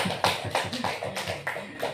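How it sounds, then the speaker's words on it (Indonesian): Applause from a small group of teachers for a colleague, Bu Rika, during a positive-culture session: a brief run of soft, evenly spaced claps, fairly close and quiet. "boleh tepuk tangan dulu untuk Bu Rika"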